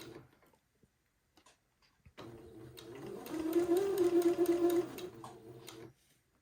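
A sewing machine stitches a seam on a shirt, a quiet rapid whirring chatter lasting several seconds after a few soft handling clicks, then stopping.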